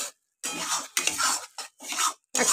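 A utensil stirs continuously in a pan in bursts of scraping and clinking, close and fairly loud, with short silent pauses between strokes.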